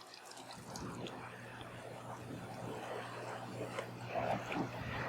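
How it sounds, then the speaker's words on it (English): Cold tap water runs steadily into a small container in a marine lab, a continuous close splashing flow under a low hum from the room. "we're going to grab cold water and make sure it is cold."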